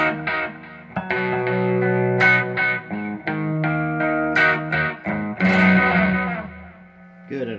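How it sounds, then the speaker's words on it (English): Electric guitar played through a distortion effect, switching from a cleaner tone to a milder crunch and then a heavily distorted sound, with sustained chords and sharp note attacks filling the whole stretch. "Distorted, but less so, and very distorted."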